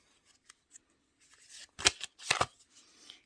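A single tarot card slid and drawn from a deck, giving two quick crisp papery swipes close by, with faint rustling of the cards before and after.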